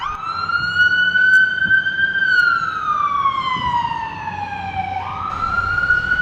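An emergency siren wails along Kalakaua Avenue in Waikiki, a loud wavering tone that slowly falls in pitch, with a low rumble of street traffic beneath.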